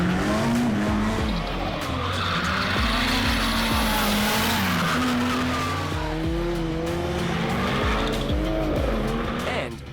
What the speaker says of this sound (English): We also hit Fuji Raceway for some drifting